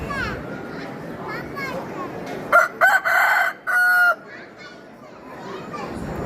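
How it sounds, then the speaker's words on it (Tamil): A rooster crows loudly and close by at the crowded Marudhamalai Subramaniaswamy hill temple, a clear multi-part call rising above steady crowd chatter and children's voices. "இத்தனை கூட்டத்திலும் இந்த சேவல் காட்சி தந்து அருகிலே வந்து குரல் கொடுத்தது"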